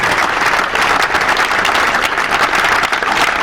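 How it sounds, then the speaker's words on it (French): Dense, loud applause from a crowd at a political rally rolls on steadily throughout, close and unbroken, greeting an arrival. "On acclame fort pour son arrivée."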